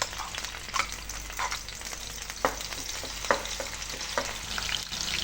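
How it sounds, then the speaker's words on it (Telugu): Onion paste fries in hot oil for a green chilli chicken dish, a steady dense sizzle with occasional crackles and stirring scrapes, close and continuous with no voices. "ఆనియన్ వేగుతుంది కదండి"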